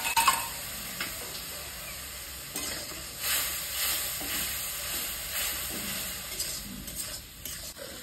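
Cut eggplant goes into a pan of spices sizzling in oil for a khoira fish curry, a moderate hissing fry with soft stirring scrapes, no talking.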